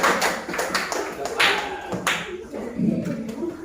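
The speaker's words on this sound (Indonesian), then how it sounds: "silahkan tepuk tangan untuk kelompok satu" Classroom applause for the first student group, a burst of scattered hand claps lasting a few seconds, fairly close and fading toward the end.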